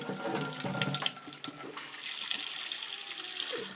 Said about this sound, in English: So put a little water in there.